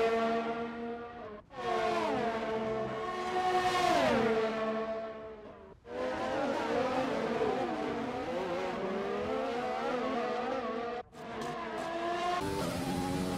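Formula 1 race cars in the F1 2020 video game scream past at high revs, with rising and falling engine pitch, brief gear-change dips and tire squeal, loud and with no talk.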